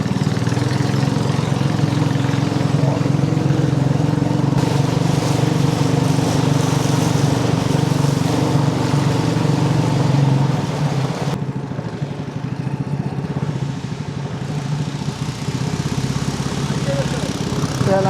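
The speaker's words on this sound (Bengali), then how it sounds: "আমাদের বুট কীভাবে বাইতেছে" Motorboat engine droning steadily on the Sangu river on the way to Remakri in Bandarban, a close mid-pitched hum that drops in level partway through and continues with some background noise.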